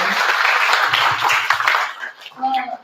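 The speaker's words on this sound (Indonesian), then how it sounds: "Dengan tepuk tangannya yang meriah ya." Audience clapping at a school event, a brief burst of lively applause fading out as a voice begins speaking over the tail.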